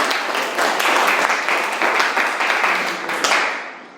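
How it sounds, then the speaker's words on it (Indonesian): Students in a vocational high school class applaud together, a lively burst of many hands clapping close by that swells briefly near the end and then fades out. "Tepuk tangan untuk kalian semua."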